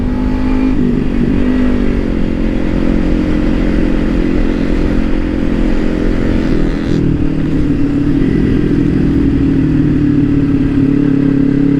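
A manual motorcycle rides along a sunny road between Tenggarong and Samarinda in East Kalimantan. Its loud, steady engine drone runs continuously with slight shifts in pitch and wind noise, and no one speaks.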